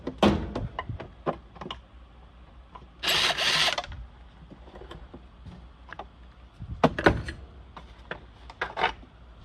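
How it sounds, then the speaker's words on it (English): Tool clicks and a short whirring burst as a screw is worked out of a vintage Bissell 3541 PureAir vacuum, with a handful of sharp ticks and taps scattered around a single louder spin in the middle. "So what I think I have to do is take out the screw that goes into here."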